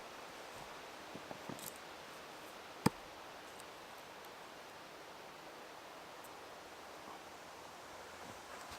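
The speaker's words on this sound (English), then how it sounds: "It's a bit windy." Soft, steady wind noise rushes outdoors, with a few faint ticks and one sharp click partway through.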